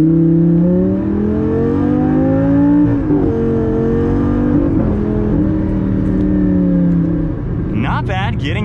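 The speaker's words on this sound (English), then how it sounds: "So let's do a little bit of an acceleration from first gear." A Lamborghini Gallardo pulls away in first gear, its engine note climbing steadily with a brief dip at each throttle change, heard loud from inside the car, with a voice cutting in briefly at the very end.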